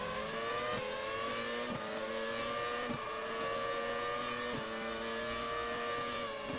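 A Formula race car in the racing game Race 07 on a Morocco circuit howls steadily at high revs, pitch dipping slightly at each gear shift, loud and close throughout with no talk.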